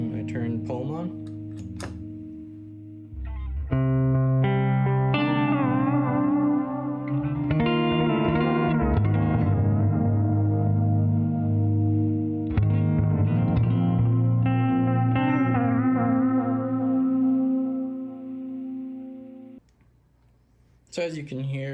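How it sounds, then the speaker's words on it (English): Electric guitar through an Audio Cultivation Project Pome envelope pedal modulating a delay, notes ringing with echoes whose timing shifts and smears as picking gets harder, loud and continuous with brief gaps. "when I pick harder, that envelope opens up and it kind of drags that delay knob down, essentially, messing with the time"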